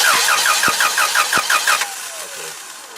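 A forklift engine cranks over with a steady, rhythmic whirring of the starter for nearly two seconds, loud and close, then stops without catching, leaving a fading hum.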